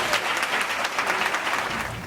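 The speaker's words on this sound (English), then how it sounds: "Give him a big round of applause." Dense, steady applause from a gala audience honoring a leader, a full crowd clapping continuously at close range.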